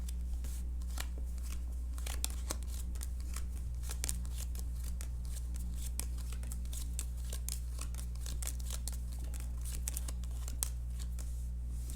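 Playing cards shuffled and sandwiched into piles during a card magic trick, with a steady stream of soft, close, crisp riffles and snaps over a constant low hum, no talking.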